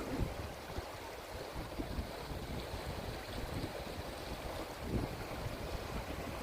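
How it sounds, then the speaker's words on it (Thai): River water flows in a continuous broadband rush with steady wash and faint splashes, close and fairly loud, with no voices. "ฟังเสียงน้ำ"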